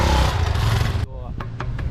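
An adventure motorcycle on an off-road track gives a loud, close engine roar that cuts off sharply halfway, followed by quieter rumbling and a few short clicks.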